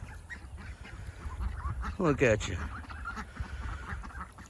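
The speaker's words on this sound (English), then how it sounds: "These big ducks are right here." Large domestic ducks honk and quack near fresh water in a short, loud burst of calls up close, with a person speaking briefly nearby.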